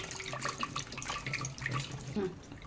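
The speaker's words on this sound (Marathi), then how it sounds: "रवीने असं फेटून घेणार आहे मी" Homemade curd and cold water whisked into buttermilk with a wooden churner, giving a soft continuous sloshing and splashing close by, faint and without voices.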